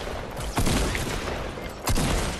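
Dense, rapid video game gunfire rattling in continuous bursts with two sharper blasts standing out, loud and close, with no talk.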